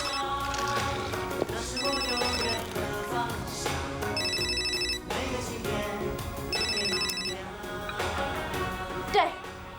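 A telephone rings in repeated bursts of bright electronic trills under background music and a voice, in a home setting where three women are drinking together.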